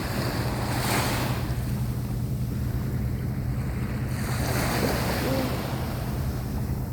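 Waves wash and splash continuously close by, with a steady rush of water and wind noise throughout.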